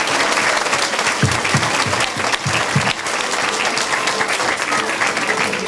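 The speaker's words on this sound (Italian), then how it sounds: "Un altro applauso a Don Gigi, lo facciamo?" An audience at a Sardinian-dialect theatre comedy show gives dense, loud, sustained applause filling the hall, with a few heavier individual claps standing out near the middle.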